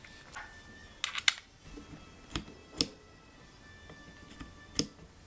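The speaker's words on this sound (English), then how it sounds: "I think I need to adjust the camera from the base now" A Panasonic GH5 camera is loosened and repositioned on the base of a rig cage, giving a handful of faint, sharp metallic clicks and small taps spaced apart in a quiet room.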